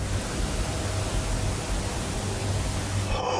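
A ghost-hunting spirit box gives a steady wash of loud broadband static hiss with a faint low hum underneath, holding evenly throughout before thinning out in the last moment.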